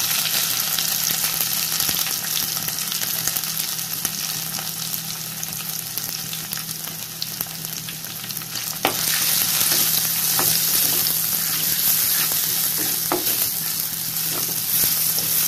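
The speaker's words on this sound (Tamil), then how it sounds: "இஞ்சி சேர்த்துக்கலாம். பூண்டையும் சேர்த்து வதக்கலாம்." Ginger and garlic sautéing in oil for a village-style fish curry, a steady close sizzle that brightens partway through, with occasional spatula scrapes and crackles and no speech.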